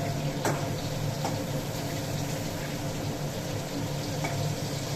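Fish frying in a pan of oil, a continuous loud, close sizzle with a few sharp pops and spatters standing out over the steady hiss.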